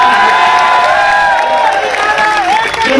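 Large crowd at an election rally in Chittorgarh, Rajasthan, cheering and shouting loudly in a sustained roar with whoops and high voices rising above, dense and continuous throughout.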